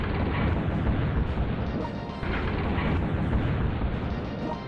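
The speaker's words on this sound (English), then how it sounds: "Point blank firing from a railgun." Railgun firing at point-blank range in a video game set in the Siege of Leningrad, a sustained loud roaring blast with heavy crashing rumble throughout, no talking.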